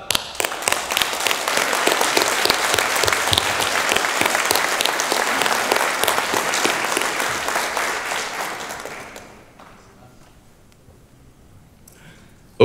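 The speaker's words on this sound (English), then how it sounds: "let us have a round of applause for each other" Conference audience applauding in a hall, dense sustained clapping for about nine seconds before fading out to near quiet.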